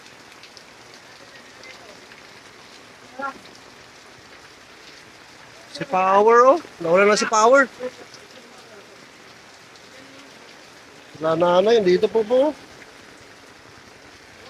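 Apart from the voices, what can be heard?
heavy rain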